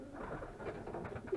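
Pigeons in a loft give soft, low cooing calls close by, a steady murmur of several birds with a slightly louder coo near the end.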